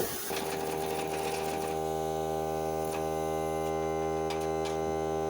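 Small portable air compressor powering an air tool on a loose bolt during a winch plate install on a 2013 Ford F150 XL, a loud steady humming drone with a brief rattling burst at the start and occasional faint clicks.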